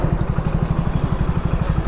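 A food-delivery rider's motorbike engine chugs with a steady, rapid low throb, close and fairly loud, with no other sounds over it.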